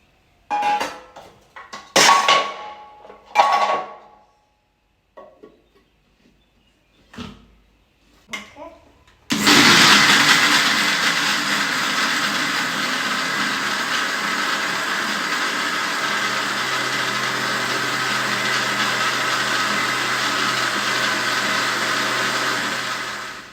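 Kitchen mixer grinder blending a banana hair paste with a little water: a few clattering knocks and handling sounds, then the motor starts abruptly and whirs loudly and steadily for about fourteen seconds, close up.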